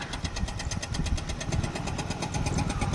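A motorbike engine runs steadily while riding along a main road, a close, even throbbing drone with rhythmic pulses and wind noise throughout.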